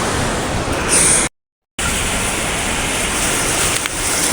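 River water of the Gandaki rushes past in a loud, steady roar of flowing water, close and continuous, broken once by a brief cut to silence.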